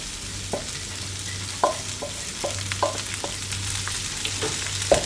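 Chopped cabbage stir-fried over high flame in a pan with golden-fried seasoning, a steady low sizzle broken by repeated sharp scrapes and clacks of a spoon stirring, close and alone.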